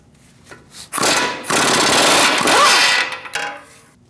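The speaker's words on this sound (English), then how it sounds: "We're going to use a 21mm socket and remove the nut." A power tool fitted with a 21mm socket spins the control arm nut off the steering knuckle of a 2008-2014 Mercedes-Benz C300, a loud sustained rattling impact burst of about two seconds, with shorter bursts before and after.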